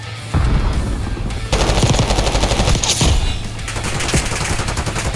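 Automatic gunfire from the Call of Duty: Black Ops 6 video game, loud and continuous, with rapid sustained bursts and brief breaks in between.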